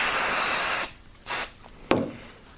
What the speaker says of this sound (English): I'm going to just continue spraying and rolling it back